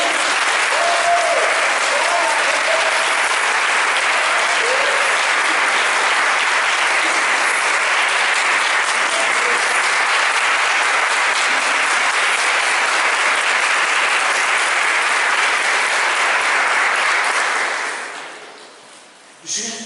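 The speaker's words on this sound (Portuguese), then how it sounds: "Dá um aplauso para esse Deus." A church congregation applauding during a worship service, loud and continuous clapping from many people for about eighteen seconds before it fades quickly, with a faint voice at the very end.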